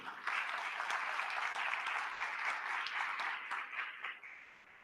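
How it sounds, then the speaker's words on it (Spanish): Audience applause at a panel discussion, a bright, dense round of clapping from a sizeable crowd, fairly close and even, fading out toward the end. "Un aplauso,"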